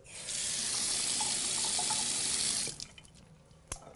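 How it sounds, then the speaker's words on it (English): Running tap water pours steadily into a sink while a mouth is rinsed after brushing on a home teeth-whitening treatment, then cuts off, leaving a few faint drips and small splashes. "then you rinse out your mouth like this"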